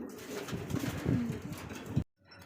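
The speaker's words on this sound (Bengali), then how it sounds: "এখানে আরো এক জোড়া গোল্লা কবুতর" Close, low cooing comes from a pair of Golla pigeons in a steady, throaty rolling run that breaks off abruptly into quiet.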